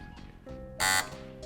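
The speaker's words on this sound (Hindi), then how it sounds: "बगावत टीम ने बजर बजाया है।" A team's buzzer on a televised quiz show about the 1857 revolt: one loud, bright electronic buzz lasting about a fifth of a second, following brief speech.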